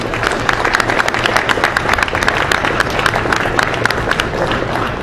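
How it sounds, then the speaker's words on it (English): A crowd at a motorcycle show media day applauds and cheers for R Lee Ermey, dense steady clapping sustained throughout with a lively, close, packed texture. "Put your hands together for the Gunny, Ermey."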